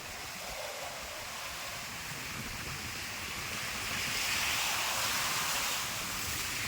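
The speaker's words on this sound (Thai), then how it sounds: "ดูคลื่นแรงมาก" Steady roar of strong sea waves crashing at a wooden bridge in Samut Sakhon, Thailand, with wind buffeting the microphone, swelling slightly louder midway through, no voices.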